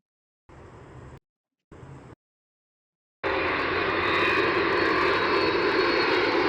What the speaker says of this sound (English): that propeller sound is the sound of the RAT